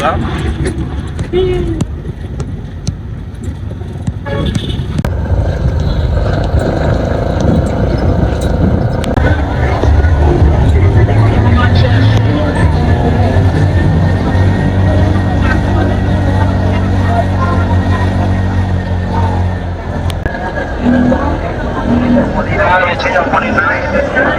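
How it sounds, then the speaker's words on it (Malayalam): Heavy street traffic in Monrovia, Liberia, heard from inside a moving auto rickshaw: a steady, loud low engine rumble and road noise fill the ride, with a voice talking over it. "ഭയങ്കര ട്രാഫിക് ഉണ്ട്"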